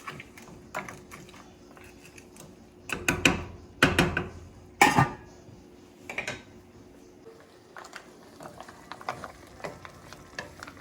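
Shrimp and mussels cook gently in a pan with a soft, low sizzle, broken by a few louder clattering knocks and stirring scrapes of the utensil against the pan near the middle.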